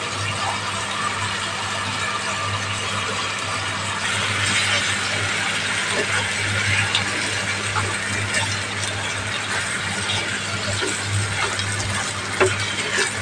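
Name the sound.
stirring rice and lentils with vegetables in a pot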